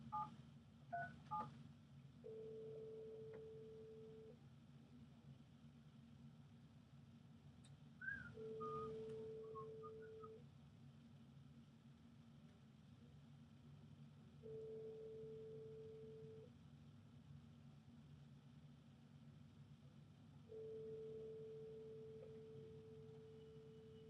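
A telephone call: a burst of touch-tone dialing beeps, then a steady ringback tone repeating four times with long pauses between, thin and line-filtered over a low hum.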